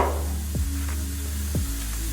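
Vegetables sautéing in a pan for a broccoli and potato vegan soup, a steady loud sizzle throughout with a few short scraping stirs, no talking.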